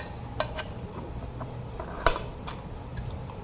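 Steel lid of a 3-litre Prestige Svachh tri-ply pressure cooker being worked free and lifted off, giving two sharp metallic clinks amid softer scraping and handling noise, close and fairly quiet.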